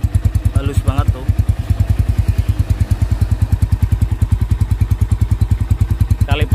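A stock, original 2013 Honda Tiger Revo motorcycle with 11,000 km idles slowly and smoothly nearby, a steady even pulse of beats, with a brief voice speaking over it.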